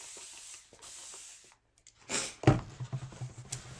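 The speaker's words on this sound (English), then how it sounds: "I'm going to spray my transfer." A spray can hisses over an etching transfer in a few short bursts, close and fairly quiet, with small handling noises between them.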